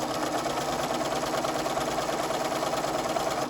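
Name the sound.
sewing machine stitching a seam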